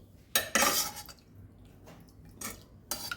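Metal utensils clink and scrape against dishes while Goan varan and rice are served, a few sharp taps and clatters spaced across a few seconds with quiet moments between.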